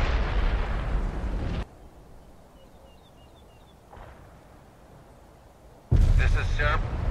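A fuel air bomb detonates in the war video game World in Conflict, with a loud, roaring blast, a quieter lull, then a second heavy rumbling burst near the end.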